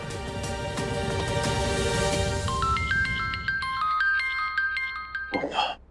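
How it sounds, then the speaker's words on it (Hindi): A bright electronic phone ringtone chimes in a repeating melodic pattern, taking over from a fading musical background, then cuts off with a brief rustle. "नवीन का फोन है।"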